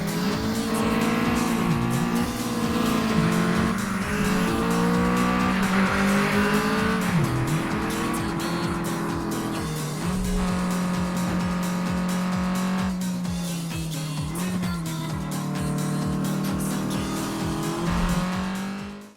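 Race cars on a touge mountain road in a racing game: engines rev loudly and shift pitch through gears, while tires squeal and skid through corners in a continuous, close roar.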